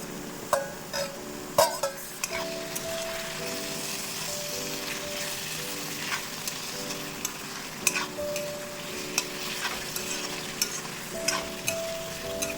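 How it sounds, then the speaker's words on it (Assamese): Local chicken pieces going into browned onions in a pan, a steady close sizzle of frying broken by repeated sharp clatters of stirring over about twelve seconds, no talking. "এতিয়া মই তাতে মাংসখিনি দি দিছোঁ।"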